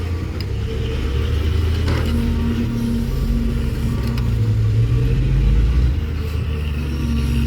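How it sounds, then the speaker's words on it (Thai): Truck rumbling along a dirt road being graded by an excavator, a steady loud low engine drone that swells and fades as it passes, with no talk. "เห็นรถดำแล่นมาตามหลังฮะ"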